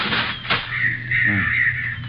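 Seagull sound effect from a live Dragnet radio drama: a couple of harsh, raspy caws, the second longer and drawn out, fairly close over a steady low background hum.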